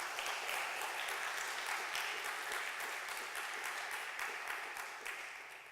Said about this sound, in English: A big round of applause for Dina